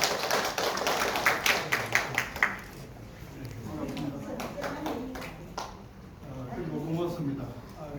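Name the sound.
audience applause welcoming the lecturer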